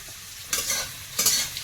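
Food fries with a soft steady sizzle in a pan, broken by two brief scraping stirs, before chicken is added for curry.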